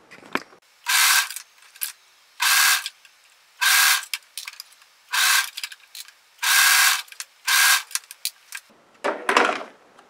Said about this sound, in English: we're going to go to the serger and then just serge around